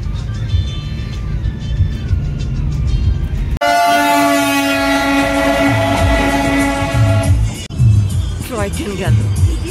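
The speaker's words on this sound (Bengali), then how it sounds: "টয় ট্রেন গেল।" The Darjeeling toy train passes near Kurseong with a loud sustained horn blast over rumbling wheels and engine noise, while people talk close by throughout.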